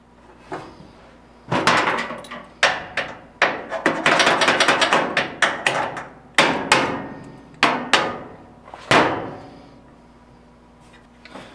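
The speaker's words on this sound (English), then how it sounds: "I gotta just kind of pound this flange down just a touch" Sheet metal flange being pounded down by hand with a hammer, a close, loud series of sharp metallic blows in irregular clusters, some quick runs and some single strikes, trailing off toward the end.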